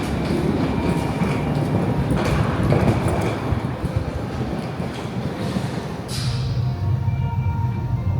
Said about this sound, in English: Got those trains down there.